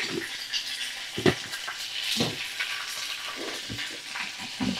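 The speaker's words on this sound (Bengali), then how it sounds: "এখন আমি ভালো করে ভাজা করে নেব" Vegetables fry in a pan with salt, a soft, crackling sizzle broken by occasional scraping stirs and clinks, fairly close and quiet.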